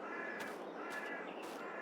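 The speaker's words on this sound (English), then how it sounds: "you can pretty much hear the birds around here are rather loud." Crows cawing in Farming Simulator 22 on a farm map, three loud harsh caws spaced roughly half a second apart over a steady ambient bed.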